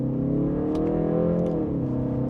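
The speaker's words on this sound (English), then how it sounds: "as we give it an acceleration here, it is very peppy" A 2025 BMW 330i with a 4-cylinder engine accelerates in second gear in sport mode, its engine note rising steadily and loudly from inside the cabin with no talk over it.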